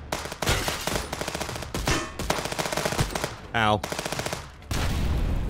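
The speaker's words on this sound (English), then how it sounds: "Someone's shooting over here, but I don't know what he's shooting at." Gunfire in the video game Contraband Police, sustained bursts of close machine-gun fire rattling almost continuously, with a brief pause and a short vocal exclamation partway through.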